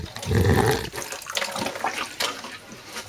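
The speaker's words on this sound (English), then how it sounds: "And then give it another very small water." Water is poured from a small can onto freshly sown herb seeds in a windowsill pot, a brief close splash and trickle soaking into the soil before fading to quiet rustles.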